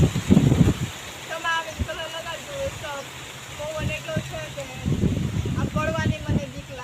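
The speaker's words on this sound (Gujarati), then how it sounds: "જોઈ શકો છો કેવો પવન આવે છે. ફૂલ જોરદાર પવન છે." Strong gusting wind roars across an outdoor microphone under overcast skies, with bursts of low rumbling buffeting that rise and fall, while people talk over it.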